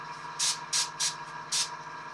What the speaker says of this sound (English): Just a little bit of spray.